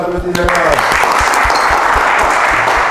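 A group breaks into loud, close applause, with brisk clapping building quickly after a brief voice at the start and carrying on evenly to the end.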